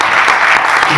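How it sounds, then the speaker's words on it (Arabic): A burst of clapping from a crowd at a Tunisian citizenship and volunteering association gathering, dense and loud across the whole moment, with some voices mixed in. "تصفيق عليه"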